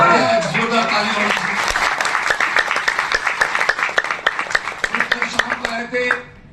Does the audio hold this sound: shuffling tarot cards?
no